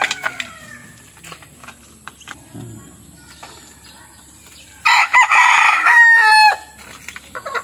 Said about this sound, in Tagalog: na-share ko na sa inyo mga kabakyard yung pagpakain natin ng alagang manok